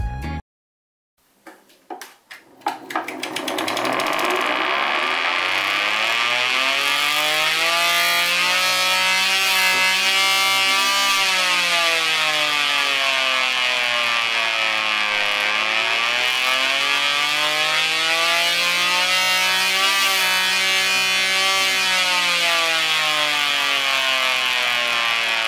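A 3D-printed alarm siren spins up from a few clicks into a loud, sustained wail whose pitch rises and falls in slow sweeps, running alone and steadily for over twenty seconds.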